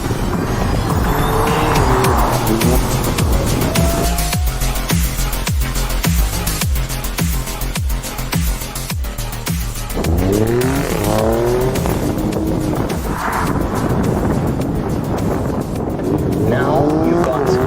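A 2020 Alfa Romeo Stelvio Quadrifoglio in race mode revs hard with a loud, continuous exhaust note through rising and falling gear changes, and someone speaks over the engine in places.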